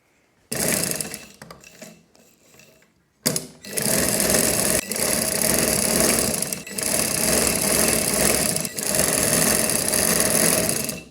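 A sewing machine stitches the waist seam of a baby girl's frock in loud, steady runs, stopping briefly near the start and pausing a few times between bursts of close mechanical whirring.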